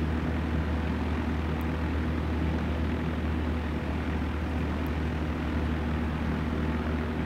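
Propeller airplane engine in cruise over the Grand Canyon in Flight Sim World, a constant loud low drone with no voices.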